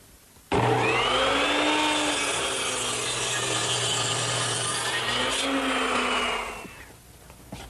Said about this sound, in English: Now to make the cut at the ridge, I've turned my miter saw to 45 degrees and installed a stop block for the correct length.